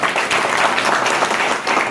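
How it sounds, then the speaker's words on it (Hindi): Steady applause from a crowd at a devotional gathering with a yagna hymn, dense continuous clapping holding at an even level for the whole span with no break. "ताली ताली ताली"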